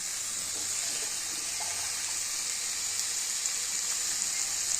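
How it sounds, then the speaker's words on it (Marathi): Hot water pours steadily over mushrooms being washed, a constant close splashing rush with no pauses. "2-3 पाण्याने स्वच्छ धुवायचं, गरम पाणी टाकायचं."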